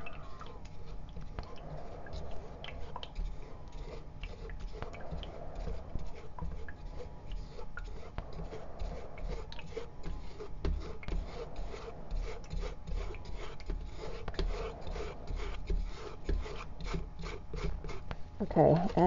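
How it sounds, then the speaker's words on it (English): A silicone spatula rasps steadily as it wipes dry glaze materials through a sieve screen in a continuous close scraping rhythm, with a faint louder sound at the very end. "I'm going to use my silicone spatula to just encourage and, you know, sort of wiping the dry ingredients against the screen"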